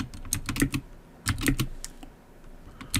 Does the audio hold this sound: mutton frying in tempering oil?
no